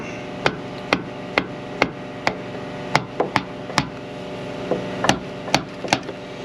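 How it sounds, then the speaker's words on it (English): A rubber mallet taps a metal cam follower on an N14 Cummins engine about a dozen times at an uneven pace, sharp dull knocks close by, some in quick pairs, no talking. "just get your hammer, preferably a rubber mallet"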